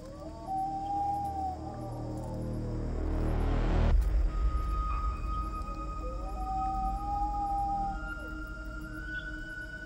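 A dog howls at night near a bridge, long drawn-out wavering cries repeating at a distance, with a low rumble of a passing vehicle swelling and cutting off between howls.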